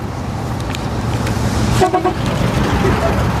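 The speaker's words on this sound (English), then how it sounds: "Honk once for vanilla, twice for chocolate." A car horn gives one short, loud honk amid traffic rumble on a street, with a faint second toot soon after.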